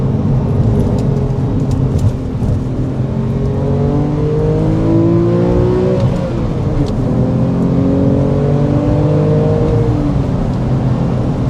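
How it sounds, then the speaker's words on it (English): A healthy Porsche engine fitted with the X51 power pack, 410 horsepower and about 310 lb-ft of torque, on decade-old tires, runs steadily and loudly throughout with rising and falling revs and no talking. "It's a healthy engine. This has the X51 power pack, 410 horsepower, around 310 foot-pounds of torque."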